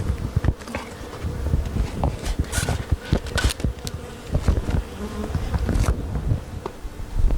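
Honeybees swarm around beehives on new stands in spring, a dense close buzz with individual bees zipping past the microphone in loud bursts.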